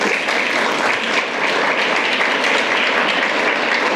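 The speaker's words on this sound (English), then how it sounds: "please give them a round of applause as they do" Sustained audience applause fills a conference hall at a Climate Week New York business panel as panelists walk onto the stage, a steady dense clapping that holds at an even level throughout.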